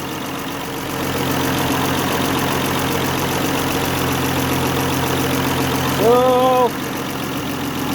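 A Chrysler engine idles steadily close by, a low, even running drone that holds throughout, with a brief tonal whine rising near the end and a short spoken exclamation over it.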